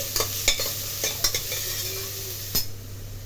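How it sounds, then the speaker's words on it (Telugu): Finely chopped onion frying in a pan for pav bhaji, giving a steady loud sizzle with repeated scraping and clinking as a spoon stirs against the pan, no voices. "సన్నగా తరిగిన ఆనియన్ ఫ్రై చేసుకోవాలి."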